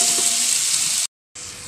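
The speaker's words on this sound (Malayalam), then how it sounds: "അപ്പോൾ നെയ്യെല്ലാം ചൂടായി വരുന്നുണ്ട്. അതിലേക്ക് നമ്മുടെ പഴം ചേർത്ത് കൊടുക്കുന്നുണ്ട് കേട്ടോ." Sliced plantain frying in hot ghee, a loud, close, steady sizzle that cuts out briefly for a moment of silence and then resumes.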